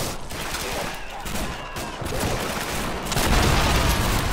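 Rapid rifle and machine-gun fire in Call of Duty 2 on Veteran difficulty, with a grenade blast amid the battle; dense, continuous crackling shots swell louder toward the end, and a voice is faintly present underneath.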